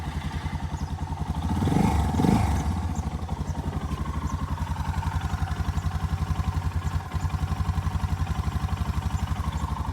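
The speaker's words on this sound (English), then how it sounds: "Cold engine, started right away." A cold Suzuki DR650 single-cylinder motorcycle engine, fitted with an upgraded carburetor, fires up and settles into a steady, close, rhythmic idle thump with a brief rev swell early on.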